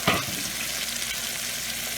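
Chopped mint and coriander leaves stirred through a spicy roasted mutton curry in a pan, a soft steady sizzle with scraping stir sounds and a sharper clatter at the start, no talking.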